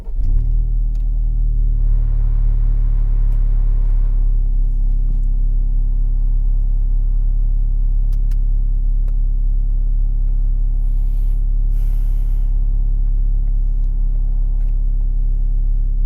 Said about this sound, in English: So starting up the car,